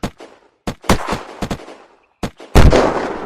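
Grizzly rifle gunfire in the video game Unturned: a series of sharp, close cracks at irregular intervals, ending in one heavier, louder blast with a lingering tail.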